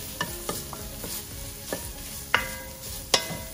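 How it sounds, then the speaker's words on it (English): Ginger, garlic and broccoli stir-fry in hot oil, a gentle sizzle under intermittent scrapes and clinks of a utensil against the pan, close by and without speech. "The ginger is a little more hearty than the broccoli, than the garlic, so we can go ahead and add the ginger."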